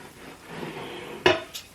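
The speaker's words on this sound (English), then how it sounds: "I'll go ahead and bring the pans over." A soft rustle followed by a clear metallic clank of a pan set down, then a lighter clink shortly after.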